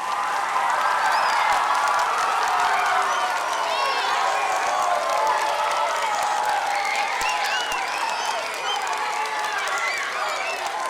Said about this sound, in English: Can we give Minnesota Wild a big round of applause?